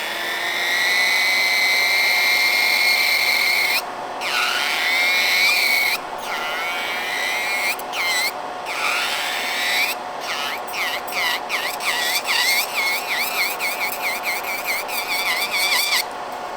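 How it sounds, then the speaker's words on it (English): Electric nail drill with a debulk bit files a nail while a dust extractor runs. A steady high whine from the extractor is cut by a series of short bursts of drill noise that come faster toward the end, with no talking. "So I'm going to use the debulk bit. Let's put on the dust extractor."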